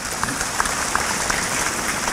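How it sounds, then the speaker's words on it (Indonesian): Audience applause breaks out at a church gathering, a steady dense wash of many hands clapping at moderate loudness, continuous throughout with no talking over it. "Tepuk tangan untuk Palangkaraya"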